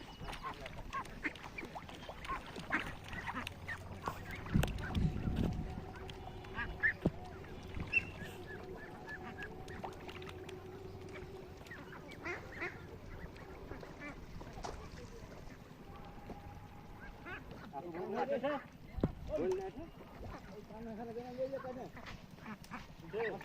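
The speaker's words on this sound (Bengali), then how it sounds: "অসংখ্য সাদা হাঁস বন্ধুরা" Many white ducks at a duck farm quack in scattered bursts, several calls clustering near the end, over steady background noise and a low rumble.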